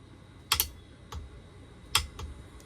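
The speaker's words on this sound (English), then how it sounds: "Now these might make a noise that sounds just like the torque wrench as you're tightening them" A torque wrench tightening stainless bolts on a Kawasaki Ultra 310 jet ski gives sharp, close clicks, about four in two quick pairs, over a low background hum with no talking.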